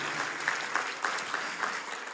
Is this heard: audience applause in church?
yes